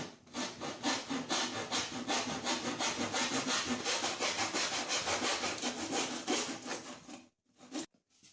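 A hand saw cuts through wood for an octagonal tray with rapid, rhythmic rasping strokes, close and steady for about seven seconds, then a few final scrapes after a brief pause.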